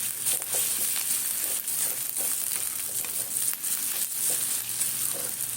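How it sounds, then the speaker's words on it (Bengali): Black cumin seeds fry in a pan with a steady, close sizzle and faint crackle that runs unbroken throughout, with no voices over it. "কালো জিরেটাও ভেজে নেব সঙ্গে।"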